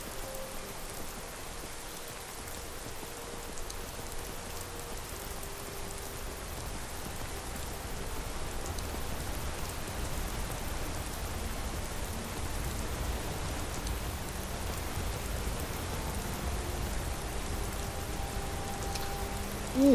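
Steady rain keeps falling after a downpour has eased, a dense even hiss with a low rumble beneath, constant and fairly close throughout with no voices.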